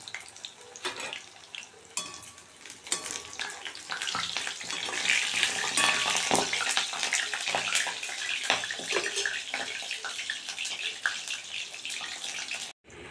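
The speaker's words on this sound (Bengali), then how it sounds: "এই যে বড়াগুলো ভাজা হচ্ছে," Battered pumpkin flower fritters fry one at a time in hot oil, giving a dense crackling sizzle that swells and holds close by, with no talking.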